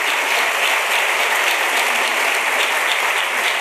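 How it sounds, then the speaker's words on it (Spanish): A congregation at a church gathering gives loud applause for the king. The clapping is dense and even, holding at a steady level close by for the whole stretch with no voices over it. "Denle un aplauso al rey"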